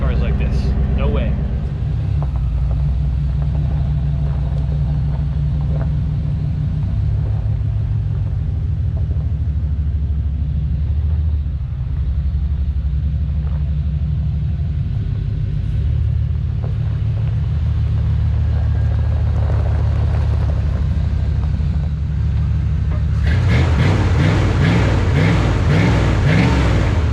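A 1995 Chevy K1500 pickup engine rumbles steadily at a low idle, loud and close, with a rougher revving surge near the end.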